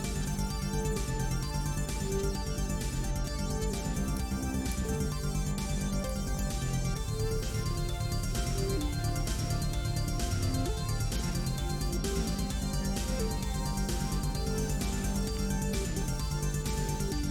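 A dense eight-bar electronic music loop plays continuously, with steady beats, bass and layered synth parts repeating at an even, loud level.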